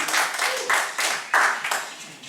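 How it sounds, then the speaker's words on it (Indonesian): An audience at a flood-relief charity event in South Kalimantan claps in several short bursts, moderately loud and close, with no voices over it. "tepuk tangan dulu dong untuk kawan-kawan kita semua hari ini"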